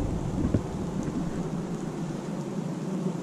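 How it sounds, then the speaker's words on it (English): Steady rain falling outdoors during a thunderstorm at a metal detecting hunt, a dense continuous hiss with a low rumble underneath, no voices. "It's flipping raining."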